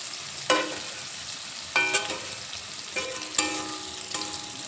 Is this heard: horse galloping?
no